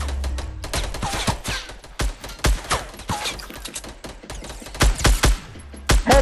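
Rapid bursts of gunfire in Fortnite Battle Royale: sharp, loud cracks in quick clusters with short gaps between volleys, close and punchy, with no talk over them.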